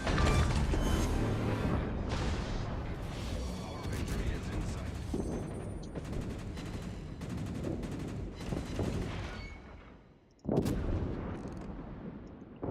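Des Moines warship guns firing armor-piercing shells in World of Warships, a rolling series of heavy booms and cannon blasts over a dense battle roar, loud and continuous with a brief lull before another salvo.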